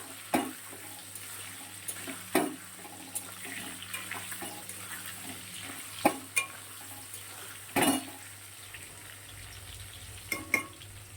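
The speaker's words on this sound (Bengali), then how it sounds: "আলুটা ভেজে তুলে নিচ্ছি লাল লাল করে" Fried potatoes are lifted from a sizzling pan, giving a soft continuous frying hiss broken by a few sharp utensil knocks and scrapes against the pan; quiet and close, with no voices.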